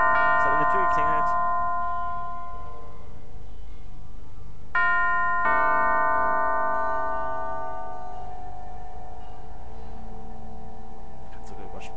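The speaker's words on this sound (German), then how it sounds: "Es hat an der Tür geklingelt." Electronic doorbell chimes ring out in the video game Alice: Madness Returns, a two-tone ding-dong with ringing tones that fade slowly, then a second chime around the middle of the clip, over faint game ambience.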